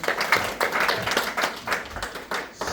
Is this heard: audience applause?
yes